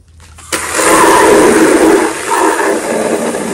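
Water gushing hard into a bucket of car wash soap, starting abruptly and running as a loud, steady, close rush that eases slightly toward the end.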